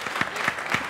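Three evenly spaced hand claps, moderately loud and close, with no talk.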